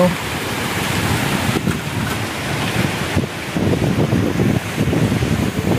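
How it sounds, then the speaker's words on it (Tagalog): Steady wind and rain sweep across the Ligao, Albay landing pad in a loud, unbroken roar of gusts and pelting drops that fills the whole stretch. "tuloy pa rin ang hangin at ulan dito po sa Ligao Albay landing pad"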